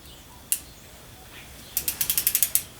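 Callicrate Pro Bander tension handle ratcheting, a single sharp click followed after a pause by a quick run of about nine crisp, evenly spaced clicks, close and clear.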